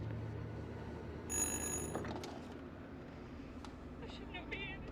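A telephone rings briefly in the horror video game Little Hope, a short bright ring burst over a low ambient drone, followed by faint scattered tones.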